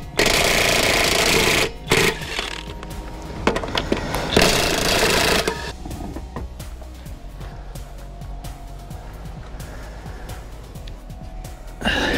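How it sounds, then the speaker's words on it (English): A DeWalt impact wrench works under the axles of a Jeep Gladiator, loud rattling bursts in the opening seconds, then quieter intermittent hammering and clatter in the garage. "Using our Dewalt Impact."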